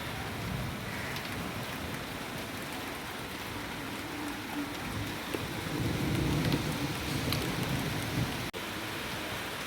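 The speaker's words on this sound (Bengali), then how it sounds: "এদিকে দেখো অঝোরে বৃষ্টি পড়ছে, অঝোরে বৃষ্টি শিল পড়ছে" Heavy rain mixed with falling hail pours down in a steady, dense hiss that swells slightly midway, with a faint sharp tick near the end and no voices.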